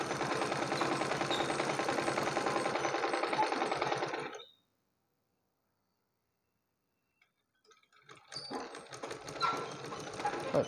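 A sewing machine stitches a blouse in steady, continuous runs, loud and close, then stops for a few seconds of silence before the stitching starts again.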